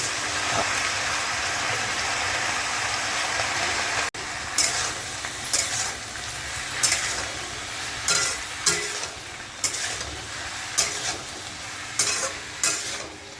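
Potatoes and onions fry in a pan with a constant loud sizzle, and from a few seconds in a spatula scrapes and stirs them in regular strokes about once a second.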